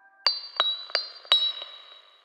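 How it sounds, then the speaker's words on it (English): A soft, dark synth bell plays a short melody in FL Studio, with five or six clear pinging notes in an uneven rhythm that ring on with a faint sustained tone beneath, alone and moderately quiet. "For that, I want to use a subtle dark bell like this."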